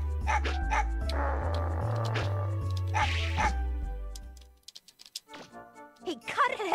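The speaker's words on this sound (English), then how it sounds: "I thought I was supposed to kick the dog." A dog in the video game Mega Man Legends barks and yips over steady, loud game music, with a few sharp, high cries near the end after the music drops away.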